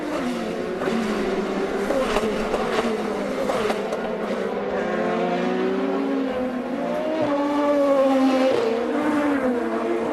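An IndyCar race car screams past on the final lap of the 2015 season opener on the St. Petersburg street circuit, its high engine whine holding loud and steady before the pitch bends as it goes by.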